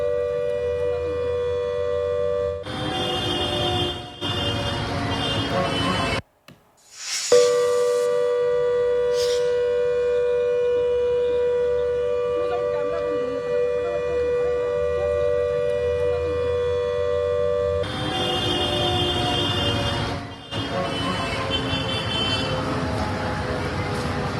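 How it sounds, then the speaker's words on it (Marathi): Civil defence siren sounding for a mock drill at a Mumbai school, a loud sustained wail broken by short gaps and a brief dropout, with traffic noise underneath and voices at times. "सकाळी नऊच्या ठोक्याला सायरन वाजवून मॉकड्रिलची तपासणी करण्यात आली आहे"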